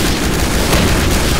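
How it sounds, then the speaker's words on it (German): A grenade goes off in Day of Defeat, a loud, dense blast of noise that fills the whole moment with sustained rumble and crackle, close and overpowering, with no talk heard. "Schick dir eine Granate rein."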